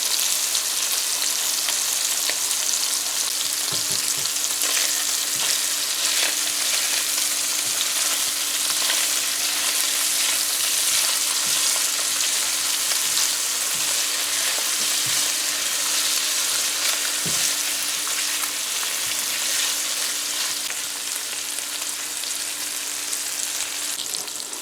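Salted fish, a satfish for a cassava dish, sizzles and spits steadily in a hot frying pan, a dense continuous crackle with occasional louder pops and no talking.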